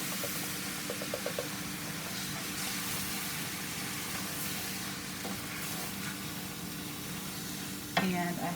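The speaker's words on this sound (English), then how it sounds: "Next, we're going to add some canned tomato sauce." Steady frying sizzle from a hot pan as canned tomato sauce goes in, a soft continuous hiss with light stirring clinks and a brief louder splash and scrape near the end.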